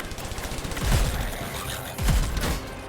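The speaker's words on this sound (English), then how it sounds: "This shotgun is the best." Shotgun blasts in a video game, two heavy booming shots about a second apart, each with a low rumbling tail, over a dense background of game noise.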